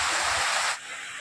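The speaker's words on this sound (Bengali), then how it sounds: "কিভাবে বৃষ্টি পড়তেছে" Heavy rain falls in a dark, stormy setting on Eid day, a dense broadband hiss of close, steady downpour that drops abruptly to a softer wash partway through.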